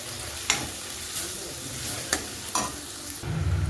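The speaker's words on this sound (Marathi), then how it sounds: "तर वाटणार तेल सुटले तर आपण याच्यामध्ये टाकून घेऊ जी परतलेली लसूण मेथी आहे ते टाकून घेऊ." Sautéed garlic and fenugreek being stirred into a masala in a pan, a soft low sizzle broken by several sharp scrapes of a spoon against the pan, ending in a fuller frying hiss.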